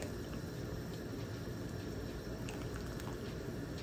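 Hot water pours off freshly cooked pho noodles into a strainer, a steady, dense hiss and splatter of draining liquid that keeps going without a break, fairly quiet, with no voices.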